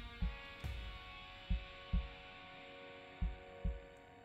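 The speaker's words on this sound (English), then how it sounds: "I can hear the heartbeat sound." Heartbeat sound effect from the Hi-Fi Rush video game: six low, thudding beats in paired lub-dub rhythm over a steady background hum, with no talking.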